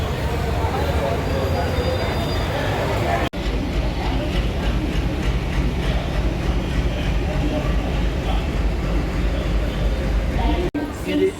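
Train number 16381 at a railway platform: a steady, loud low rumble of rolling stock and engine fills the whole span, continuous and close, with voices mixed into the noise.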